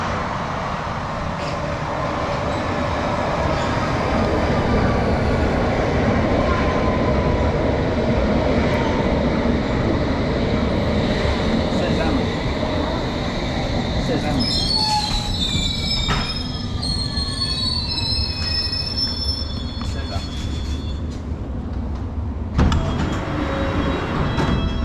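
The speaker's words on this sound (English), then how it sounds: "This is an all-station Metropolitan line train to Amersham." A London Underground Metropolitan line train rumbles steadily along the track with heavy, continuous low noise, and partway through its wheels let out high, wavering squeals that rise over the roar before fading.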